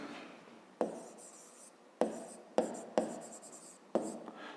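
A pen writes by hand on paper, making five distinct sharp strokes with soft scratching between them, close and clear.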